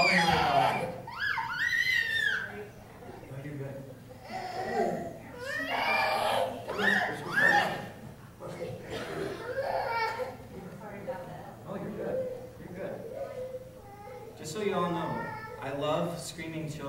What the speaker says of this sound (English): Screaming children in the church.